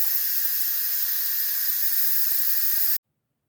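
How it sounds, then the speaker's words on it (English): Steam hisses loudly and steadily from an Instant Pot on quick release, a broad continuous rush with no voices that cuts off abruptly after about three seconds. "The Instapot just sounded off. Now I'm going to do a quick release."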